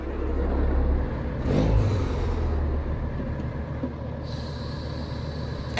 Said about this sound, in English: let's climb into the W900, get the Caterpillar 3406E fired up, and get cruising on down the road